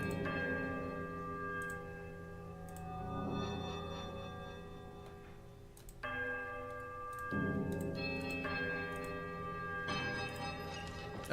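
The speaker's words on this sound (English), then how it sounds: "a sudden dissonant toll sounds from the bells, so loud and piercing that you are compelled to cover your ears" Bells tolling in the video game Pillars of Eternity, several sustained metallic strikes with long ringing overtones, each new toll cutting in sharply over the fading one, fairly loud and reverberant with no voices.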